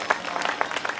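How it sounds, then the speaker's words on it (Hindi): An audience at a Shri Ram Katha gathering in Pithoragarh claps for the Brahmins: a short, dense burst of many hands applauding at once, moderately near, with faint crowd murmur. "सब ब्राह्मणों को जोरदार ताली बजा दो उनको"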